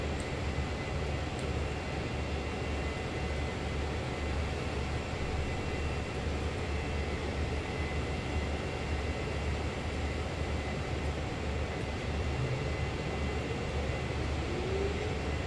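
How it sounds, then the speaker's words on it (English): Several CSX heavy haul diesel locomotives idle and run together in the Train Sim World video game. They make a constant low rumble with a steady mechanical drone, with no talk. "There's so much noise from the surrounding locos that I can hardly hear this one going."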